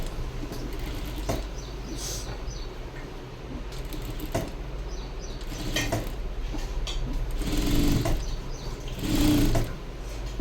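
A sewing machine runs double stitching on a high neck blouse, a continuous close mechanical whir with a steady low hum underneath and a couple of louder swells near the end.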